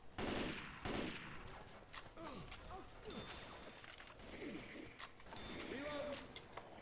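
Rapid gunfire in the co-op zombie shooter Left 4 Dead 2, fired at a hunter: sharp bursts of shots in the opening second, then scattered cracks through the rest, mixed with game effects while several players talk over it.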